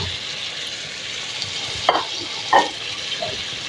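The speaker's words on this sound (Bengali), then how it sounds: "দিয়ে আমি ভালো করে নেড়ে চেড়ে মশলাগুলির সঙ্গে আরেকটু কষিয়ে নিব" Bitter gourd stir-fried with spices in a pan, a steady low sizzle broken by two short scraping stirs near the middle and end, close by with no voices.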